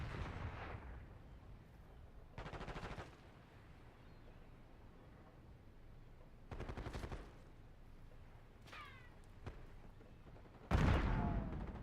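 In Call of Duty gameplay, a concussion grenade and gunfire go off as several sharp bursts spread over a few seconds, with a louder blast near the end, all fairly faint and with no talk.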